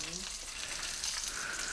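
Fish frying in a pan in a home kitchen, with garlic offered alongside, gives a steady close crackling sizzle that runs throughout with no talk over it.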